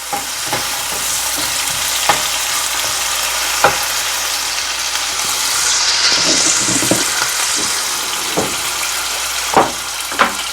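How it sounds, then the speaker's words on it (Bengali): Potatoes fry with salt and turmeric in a hot pan, giving a steady loud sizzle with occasional sharp stirring scrapes and clinks throughout. "নুন আর হলুদ দেবো দিয়ে একটু ভাজা ভাজা করব"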